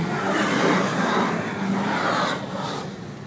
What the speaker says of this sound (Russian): А сейчас видео дрифт на девятке Пятигорск.